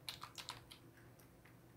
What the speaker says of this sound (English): And the way we do that is by typing in driver